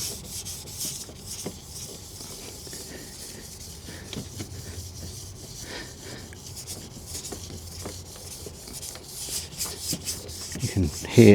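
Rubbing across the rough surface of a restored Porsche headlight lens, a soft continuous scratchy rasp with faint uneven strokes, close and quiet throughout.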